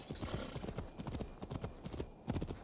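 Horse hooves clip-clopping in the video game Assassin's Creed Valhalla, a quick steady rhythm of close hoofbeats at moderate volume, with a faint whinny and little else around it.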